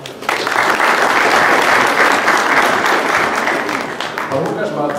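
Steady applause for a candidate being introduced at a Polish political party event in Toruń, a dense wash of clapping from a crowd that holds loud and even for about five seconds before easing slightly.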